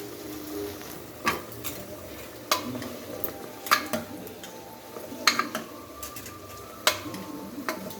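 Pumpkin pieces dropped into a cooker pot while making pumpkin sambar, giving scattered clattering knocks and clinks against the pot over a low background hiss, with several sharp louder hits spread across the stretch.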